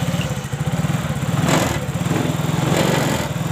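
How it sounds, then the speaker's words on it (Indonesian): A Yamaha Mio J motorcycle engine runs after its fuel pump is refitted, a close, steady, fast-pulsing putter of a small engine that holds on its own without talk. "kita coba pemasangan dari motor Mio J ini dan coba kita hidupkan"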